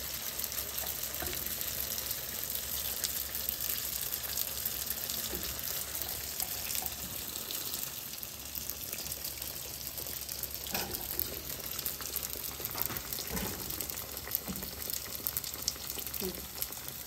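Baursak dough frying in hot oil, a steady hiss and bubbling sizzle running continuously at moderate level with occasional small crackles and pops.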